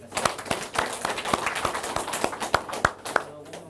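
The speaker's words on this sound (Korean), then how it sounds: "박수 한번 치시죠." Party members applauding at a political meeting, a scattered round of clapping with distinct sharp hand claps standing out over a crowd murmur, fairly close.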